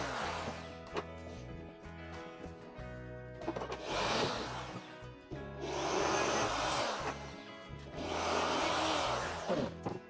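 Power drill boring holes through wood for an indoor herb planter, with a sustained whining motor that rises in several long loud bursts between brief pauses, close and steady.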